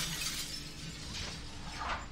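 Glass shattering in the video game Prey, a sequence of bright breaking crashes with scattered tinkling bursts over a steady background hum.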